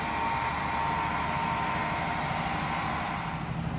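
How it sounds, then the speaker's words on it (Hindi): A Maut radial drilling machine from Italy with 50 mm capacity, its spindle running at 1100 rpm, gives a steady, even mechanical whir and hum with no breaks, heard alone at moderate loudness. "1100 आरपीएम 1100 रोटेशंस पर minute the machine is in very good condition"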